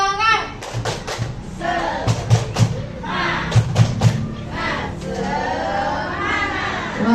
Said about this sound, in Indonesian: Oke Bapak Ibu, kita tepuk semangat dulu ya.